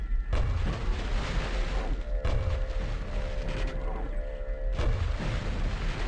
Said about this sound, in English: We just gotta grenade these guys.